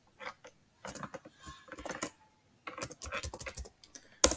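Code being typed on a computer keyboard, close and fairly quiet, coming in irregular bursts of rapid key clicks separated by short pauses, with no talk.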